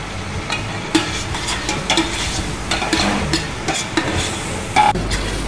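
Mushrooms, canned and raw together, cook in butter in a pot, with a continuous soft sizzle broken by repeated stirring scrapes and light knocks of a utensil, close and moderately loud.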